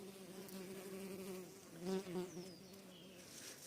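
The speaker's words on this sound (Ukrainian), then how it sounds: "Бджоли послідались, тому що плоди спілі пахнуть дуже виразно." Bees buzz steadily and close by around ripe Temira peaches, a continuous droning hum that swells briefly as insects fly past.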